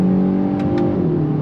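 A 2023 Kia Forte GT accelerating hard on throttle in third gear, a loud tonal engine drone that climbs in pitch, with two brief higher whooshes partway through and no talking.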